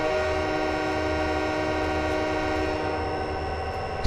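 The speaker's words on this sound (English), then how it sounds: "We have a whistle." A locomotive whistle sounds in Train Simulator 2020 on the Soldier Summit route, a sustained, steady multi-tone blast holding for several seconds over low rumbling engine noise.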